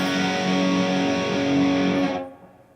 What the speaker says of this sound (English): if the entire open chord sounds like this with all 6 notes